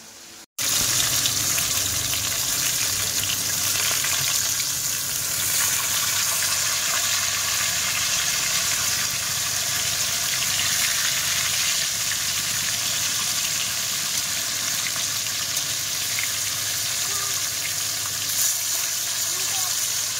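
Katla and rui fish frying in a pan, a steady close hiss and sizzle of oil running unbroken throughout, with no voices over it.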